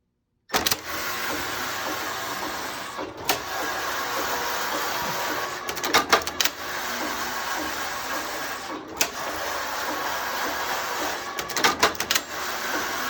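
A Passap E8000 electronic knitting machine knits a blanket, its carriage sweeping back and forth in steady passes with mechanical whirring and clicking at each end, fairly loud and close, with no talking.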